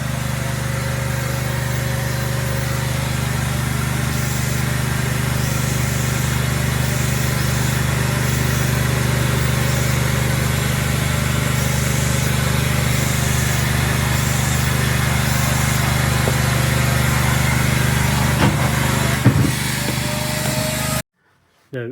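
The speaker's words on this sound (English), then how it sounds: "I'll come back in once the generator's finished and you can hear me better" A generator running aboard a catamaran, a loud steady engine drone with a low hum that holds throughout, a few clunks near the end before it cuts out abruptly.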